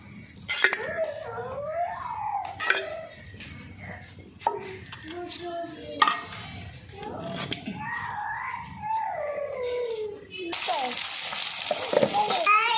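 Ghee sizzles on an aloo methi paratha made from wheat flour as it fries in a pan, with occasional stirring and utensil clinks. Talking runs over it, and the hiss swells loudest near the end.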